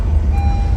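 Reversing beeps from a vehicle on a quiet street in Sector 9A, Chandigarh at night, a steady close electronic tone sounding continuously throughout the brief moment.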